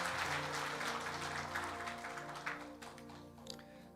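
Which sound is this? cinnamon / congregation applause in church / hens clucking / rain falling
congregation applause in church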